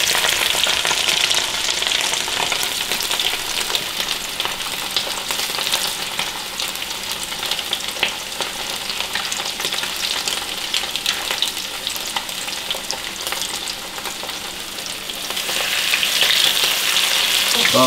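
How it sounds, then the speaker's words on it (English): Steady, dense sizzling of catfish frying in a hot pan, a continuous loud crackle with no voices, swelling slightly near the end. "we got these fish in here frying up"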